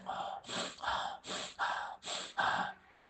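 A voice imitates a tired lion panting, with seven rhythmic breathy gasps in quick succession, close and fairly soft.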